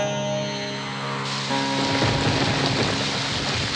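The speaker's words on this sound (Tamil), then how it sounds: "மழை வருது இல்ல" Rain falls steadily as a dense, loud hiss that swells after a second or so, drowning out a fading musical drone beneath it.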